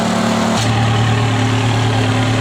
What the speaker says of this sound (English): I have a racing exhaust on this 360, so in the default mode it's a little bit loud